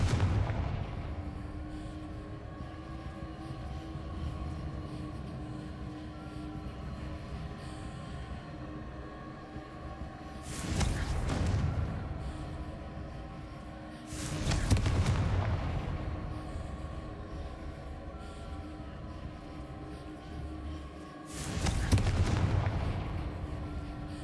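Three heavy booms burst out at intervals over a low ambient hum, the Confringo fire spell exploding in the video game Hogwarts Legacy, each blast loud and broad with a short rumbling tail.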